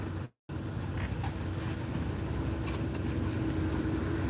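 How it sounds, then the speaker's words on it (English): A dump truck working on road repaving outside, heard through a window as a steady low engine rumble and drone that stays continuous and moderately loud after a brief dropout. "they're doing repaving over there. So there's a dump truck and whatnot doing some stuff"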